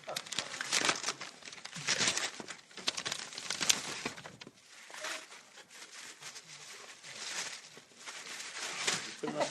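Wrapping paper crinkling and tearing as a gift is unwrapped at a public meeting, close, busy rustling bursts that keep going, with voices talking underneath.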